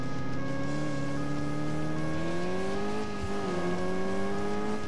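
A car in the Alarm für Cobra 11 Highway Nights video game drives with nitro engaged, its engine droning steadily and loudly with a rising pitch as it accelerates, heard alone without talk.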